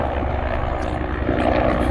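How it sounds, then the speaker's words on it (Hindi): Helicopters flying over a highway make a continuous, loud rotor and engine drone that holds steady throughout with no speech. "हाईवे के ऊपर हेलीकॉप्टर फिर रहे हैं"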